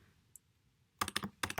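Brief typing on a computer keyboard: a faint early tap, then two quick clusters of crisp, close keystrokes in rapid succession, with no talking.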